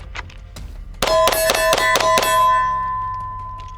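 Six pistol shots fired at a target, coming in a quick, evenly spaced string of sharp reports with ringing metallic tails that fade out after the last shot.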